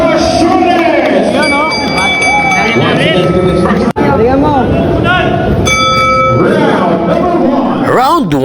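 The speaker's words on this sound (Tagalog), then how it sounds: "Round 1. Tumulog na ang kampana." A boxing ring bell rings to start round 1 of a professional bout, sounding as repeated bright metallic clangs over loud crowd noise and an excited announcer's commentary.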